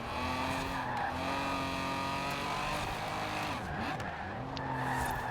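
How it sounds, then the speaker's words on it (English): A Ford Lotus Cortina drifting through a turn in Forza Horizon 4, its tires squealing loudly and steadily over a droning engine, the pitch bending as the car slides for several seconds. "drifting through the turn a little bit there"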